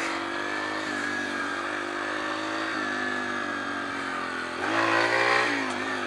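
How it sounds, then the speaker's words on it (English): A Yamaha TTR 125 pit bike engine runs steadily close by, with a strong buzzing drone that swells in a brief rev near the end, with no talking over it. "What's that full-grown adult doing riding a little pit bike?"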